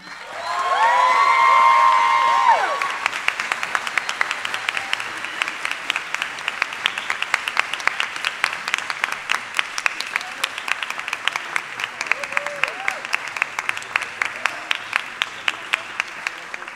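Applause from a university soloists' concert audience swells loudly at first, then thins into steady, lighter clapping that carries on for a long stretch, with a voice speaking briefly over it.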